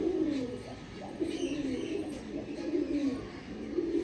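Kalshira pigeons, a pair of male and female, coo steadily in low, rolling, repeated calls that run through the whole stretch at moderate volume, with no other sound competing.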